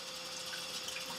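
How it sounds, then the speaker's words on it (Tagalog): Salmon being rinsed under a running kitchen tap, a steady close hiss of flowing water with no talk. "So, hinugasan ko lang to ng konti."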